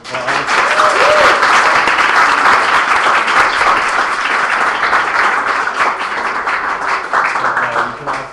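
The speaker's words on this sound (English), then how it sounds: "Let's give him another round of applause." A talk-event audience applauds loudly and continuously, with dense overlapping claps that hold for several seconds before easing slightly.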